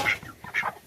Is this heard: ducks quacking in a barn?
yes